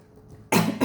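A sharp, loud cough bursts in after half a second of quiet room tone, followed by a second short cough, both close to the microphone.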